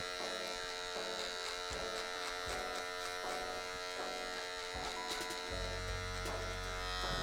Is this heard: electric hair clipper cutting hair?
yes